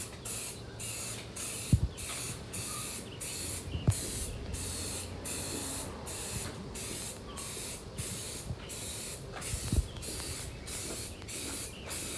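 Rhythmic bursts of aerosol spray paint hiss in regular short pulses while painting 1985 GMC Sierra door panels, with occasional clicks and knocks between them; no voices.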